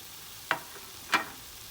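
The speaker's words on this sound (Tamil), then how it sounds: "இப்போ நம்ம எடுத்து வச்சுருக்க கேப்சிகம் ஆட் பண்ணிக்கலாம்." Capsicum being stirred in a hot pan for egg rice: two short, soft scraping sizzles about half a second apart in an otherwise quiet kitchen.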